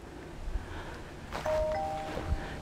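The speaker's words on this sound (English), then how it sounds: "Ding dong. Somebody must have just texted me." A phone text message notification sounds once, a short ringing ding partway through, over quiet outdoor background noise in a forest in fall.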